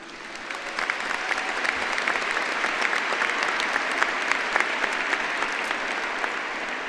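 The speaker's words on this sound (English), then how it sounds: "please give yourselves a round of applause" Sustained crowd applause fills a university commencement hall, dense, even clapping from many hands building slightly and holding steady without speech.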